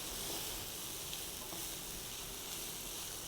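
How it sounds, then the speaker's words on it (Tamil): Finely chopped tomato sautés in a pan for a drumstick-leaf soup, giving a faint, steady sizzling hiss with no break and no voices. "அரை தக்காளி போட்டுக்கோங்க. நல்லா வதங்கி வரட்டும்"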